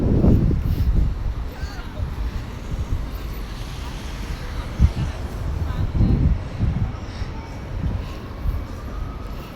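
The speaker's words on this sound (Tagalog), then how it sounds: "Grabe ang hangin, guys." Strong gusting wind at Plaza Castilla buffets the microphone, with loud low rumbling bursts coming and going.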